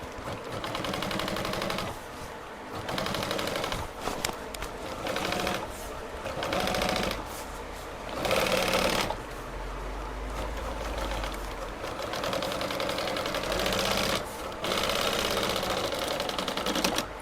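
A sewing machine stitching a seat cover for a Splendor motorcycle runs in repeated bursts of rapid mechanical chatter, each lasting a second or two and separated by short pauses.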